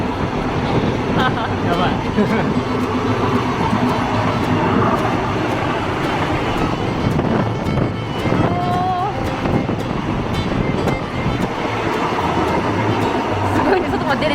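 Old Thai State Railway train running on the Nam Tok line between Kanchanaburi and Bangkok, heard from inside an open carriage with no windows or doors: a loud, steady rumble with wind buffeting, and people talking over it.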